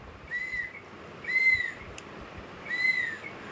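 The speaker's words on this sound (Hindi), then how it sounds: "देखो कैसे बजा रही है नव्या सीटी" A child blowing a whistle, three short shrill toots spaced about a second and a half apart over a quiet indoor background.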